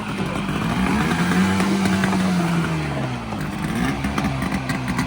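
A jet ski fitted with a hood stack has its engine bouncing off the rev limiter, a loud, rough, buzzing roar that stutters and wavers in pitch at close range.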